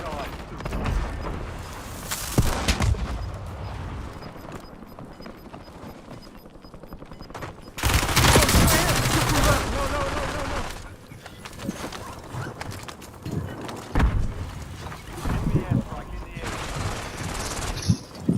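Bursts of video game gunfire during a rooftop firefight, rapid automatic volleys loud and close that swell sharply midway, with game voices talking over the shooting.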